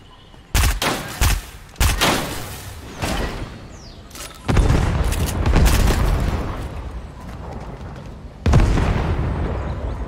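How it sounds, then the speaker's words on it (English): Explosions and bursts of gunfire erupt in a Fortnite capture-the-flag match: several sharp loud blasts early on, followed by a longer rumbling explosion and another heavy boom near the end. "Explosion."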